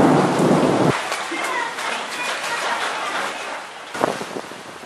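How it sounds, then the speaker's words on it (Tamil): A thunderstorm with heavy rain over Hosur in Krishnagiri: a deep rumble of thunder rolls out and cuts off, leaving a loud steady downpour, then a second sharper crack sounds near the end. "ஓசூர் மற்றும் அதன் சுற்றுவட்டார பகுதிகளில் 1 மணி நேரம் இடியுடன் கூடிய மழை பெய்தது."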